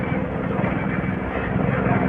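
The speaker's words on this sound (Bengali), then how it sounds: "উপর দিয়েও যাচ্ছে তো হেলিকপ্টার" A helicopter passes overhead in winter with a muffled, continuous low rotor drone, while a voice can be heard nearby.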